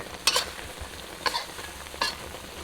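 Pickled mustard greens being turned over pork belly in a pot, three brisk scraping strokes against the pot at steady intervals over a low background hiss, close and moderately loud.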